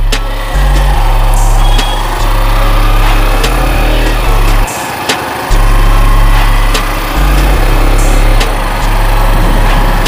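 A Hero Splendor motorcycle engine drones steadily while riding, its low single-cylinder hum loud and close with brief drops in pitch during gear shifts, heavy wind buffeting and no talk.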